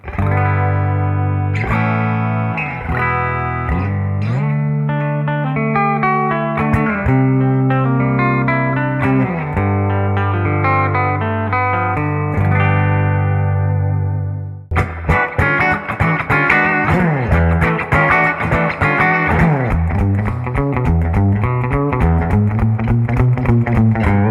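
An electric guitar rings out clean tones, first slow sustained chords and notes, then a brighter, busier passage of picked notes, loud and close with no talking.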